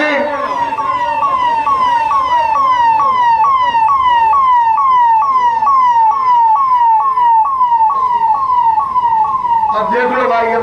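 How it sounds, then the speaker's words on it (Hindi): An ambulance siren wails in a fast repeating rise-and-fall pattern, loud and close, holding steady for about ten seconds before a brief burst of other sound near the end, with traffic in the background. "एम्बुलेंस को जाने का रास्ता दे दीजिए"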